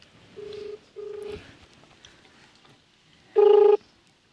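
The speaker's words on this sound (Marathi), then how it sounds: "त्याला डायरेक्ट फोन लावतो।" Telephone keypad dialing tones for a call, two steady beeps followed by a louder third tone, with quiet background between them.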